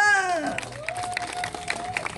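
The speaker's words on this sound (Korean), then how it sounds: "박수 함성!" An audience claps and cheers in a dense, even wash of noise for under two seconds, opening with a voice calling out and sliding in pitch.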